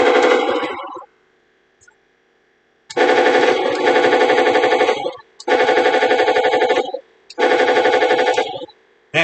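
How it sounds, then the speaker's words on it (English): Toy battle tank firing its electronic machine gun sound effect: loud, buzzing rapid bursts of several seconds each, four in a row separated by short silences, close and alone without talk. "And the machine gun fire too."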